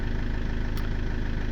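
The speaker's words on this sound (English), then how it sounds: "the engine is actually sounding quite nice" A Land Rover Freelander Td4 diesel engine idling during injector coding, giving a steady, close, low throbbing rumble with an even rhythm throughout and a brief click partway through.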